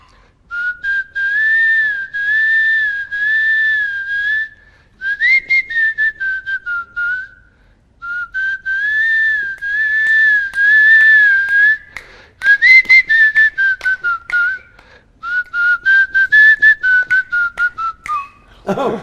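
A person whistles a tune from the Telugu film Power, starring Ravi Teja, during an interview. The melody comes in loud, clear phrases with short pauses between them, and no other sound competes with it.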